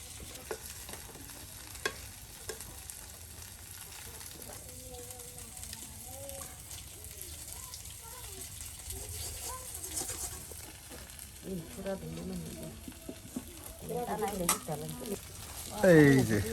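Drumstick leaf and potato fritters fry in hot oil in a rural kitchen, giving a steady soft sizzle and crackle throughout, with a few louder stirring clatters toward the end and faint background voices.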